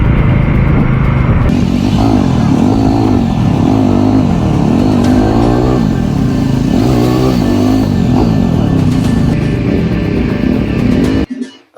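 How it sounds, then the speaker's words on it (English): Motorbikes race through the streets of Bosa, Bogotá, while being chased, engines loud and close, repeatedly revving and rising and falling in pitch, cutting off abruptly at the end. "And right now they're chasing these motorbikes."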